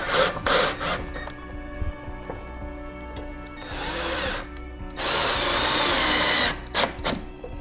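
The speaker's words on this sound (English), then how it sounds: "we'll screw in the brackets to the studs." A power drill drives screws through fireplace mounting brackets into wooden wall studs, with several short bursts of whirring separated by handling noises and two longer, louder runs near the end.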